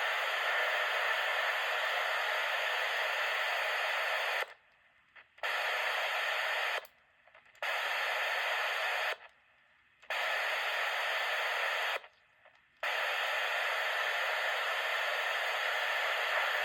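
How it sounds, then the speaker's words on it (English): Steady hiss of radio static from a 1979 Radio Shack 27 MHz RC receiver drops to silence four times as a vintage walkie-talkie keys its carrier wave, with the hiss returning between each short quiet gap. "This walkie-talkie transmits a carrier wave, which silences the background static."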